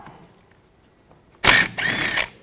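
A power tool with an 11mm socket spins out a rear brake caliper bolt on a 2010-2017 Chevrolet Equinox: after near silence, two loud close bursts of whirring and ratcheting, the second one longer.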